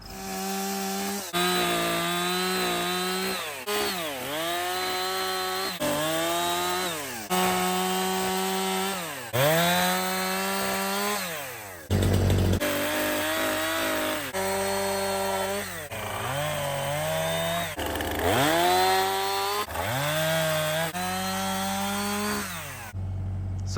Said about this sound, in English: With just a chainsaw and an excavator.